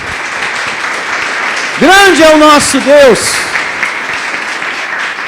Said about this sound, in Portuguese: Louve ao Senhor com suas palmas bem fortes.